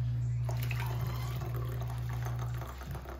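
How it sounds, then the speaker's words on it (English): Hot water poured into an old-fashioned flask, a bubbling, gurgling liquid stream over a steady low electrical hum that tapers off near the end, with faint voices in the background. "And then I'll put some hot water."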